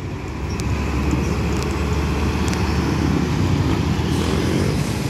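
An Aceh bus without a front guard, a JRG nonstop on a 1626 chassis, passes on a road at night, its steady, loud engine rumble and road noise filling the whole moment.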